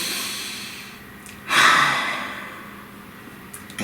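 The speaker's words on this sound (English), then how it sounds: "One more nice deep breath." A single deep breath drawn in and let out close to the mic, a soft, breathy rush that swells suddenly and then fades slowly into a quiet room.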